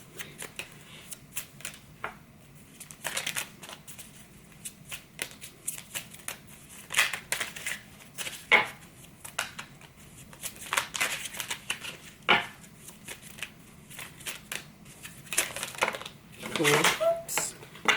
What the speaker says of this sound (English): Cards turn over. These are small cards.